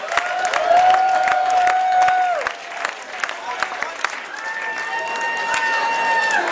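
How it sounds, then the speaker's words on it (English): Roast audience clapping in a lively burst, with scattered sharp claps, sustained tonal hum or whistle-like sounds riding over the room, and some voices mixed in. "Let's give David Chu a big round of applause."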